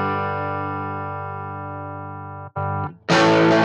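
Overdriven electric guitar through an Axe-Fx III Fender Tweed amp model at stock settings: a long sustained distorted chord rings out, a short stab follows, then a brighter, louder crunchy strum, close and with no talking.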